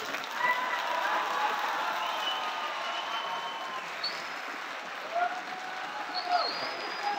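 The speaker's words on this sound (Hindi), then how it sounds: "ये बैठे तालियां बजा रहे हो" Sustained applause from an audience at a university event at BZU Multan fills the whole stretch, with a steady clapping wash, scattered crowd voices and a few whistle-like tones over it.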